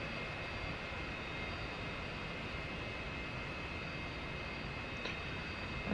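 An F-86F Sabre jet engine spools up after start, a steady broadband roar with a sustained high whine, loud and unbroken, with a slight swell at the very end.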